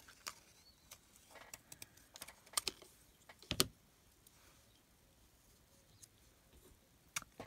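Scissors snip through fibers or paper in a quiet craft room, a few sharp close cuts scattered through the stretch with one louder snip near the middle, with no talking.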